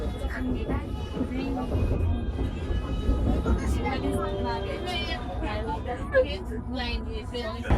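Rumbling metro train noise with screeching, whining tones rolls on continuously, while voices talk over it.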